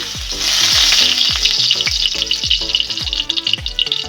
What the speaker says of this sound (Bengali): আমি প্রথমে দিয়ে দিচ্ছি তেজপাতা